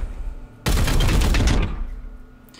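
Heavy gunfire from the turn-based strategy game Chaos Gate: Daemonhunters, a loud dense burst of overlapping shots that erupts suddenly, holds for about a second and then tails off into quiet.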